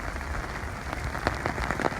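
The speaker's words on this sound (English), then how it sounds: "venture into the rain" Rain falling on an umbrella in California makes a dense, steady patter, close and continuous, with sharper individual drops tapping through it and no talking.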